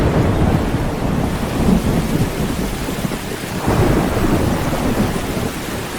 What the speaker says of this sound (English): Then the first raindrops fall upon the parched land.